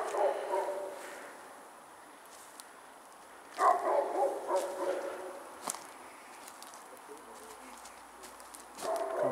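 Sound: dog barking outside abandoned chalet

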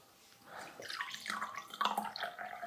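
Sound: filtered water poured into a glass

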